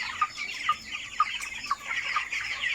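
Broiler chickens about 25 days old, packed tightly in a crowded farm pen, cluck and chatter nearby in short repeated bursts that overlap into a continuous busy flock murmur, with no talking.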